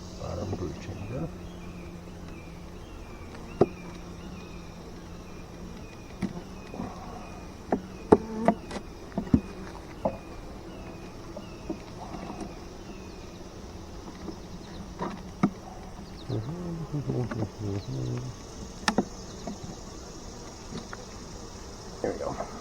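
Honeybees hum softly and continuously around an open hive during an inspection of the bottom brood chamber, joined by occasional frame clicks and knocks and faint talk in the background.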